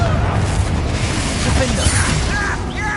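Explosive spell blasts in the Hogwarts Legacy video game, a dense rumbling barrage of booms and crackling bursts layered with game effects, loud and continuous over the whole stretch.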